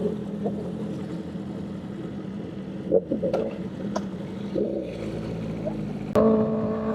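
A Kawasaki ZX10R motorcycle rides with a group, giving a low, rumbling engine drone mixed with wind noise and a few brief louder surges. It is fairly quiet overall.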